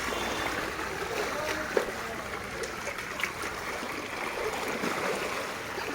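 Floodwater flows along a submerged street in Sodepur after two days of rain, a steady rushing wash with faint splashes, under a distant murmur of voices.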